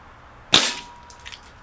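A single sharp crack from an ASG Dan Wesson 715 6-inch airsoft revolver firing a BB, close and loud, followed by a short decaying tail and a few faint clicks.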